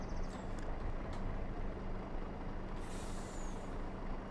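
Machine equipment extends in the Farming Simulator 25 video game, a steady mechanical hum and hydraulic drone with a hiss of air rising near the end, moderately quiet and unbroken throughout.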